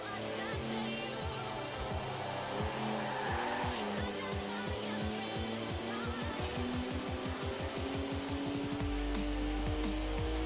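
In Forza Horizon 4, a twin-turbo 3-litre straight-six car drifts hard, the engine revving and shifting in rising pulls while the tires squeal continuously, loud and close throughout.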